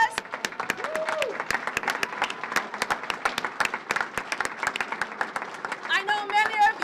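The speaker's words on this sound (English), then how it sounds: "You deserve an applause." A rally audience applauds airport workers, scattered but steady clapping from a crowd with whoops and voices rising over it toward the end.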